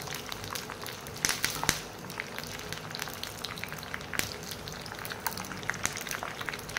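Curry leaves bubbling in hot mustard oil: a faint, steady crackle and sizzle with scattered small pops, heard close up without any voices.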